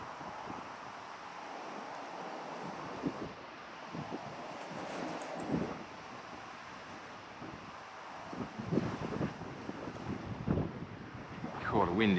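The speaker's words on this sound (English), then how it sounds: "the wind is really biting cold at the moment" Cold wind blows steadily across the microphone beside a carp fishing lake outdoors in England, a low buffeting rush with gusts that rise and fall, along with scattered rustles and faint handling noises.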